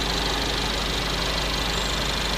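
A 2014 Mercedes-Benz CLA 250 with a 2-liter engine idling, a steady even hum and hiss held at constant level throughout, close by with no voices.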